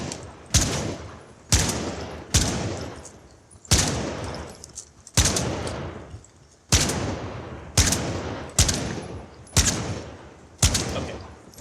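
Gunfire in a first-person video game where shooting is triggered by brain signals: sharp, evenly spaced single shots, about eight in a row, each with a decaying tail, loud and close.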